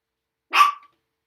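A dog gives a single short, sharp bark in otherwise near silence, close and clear.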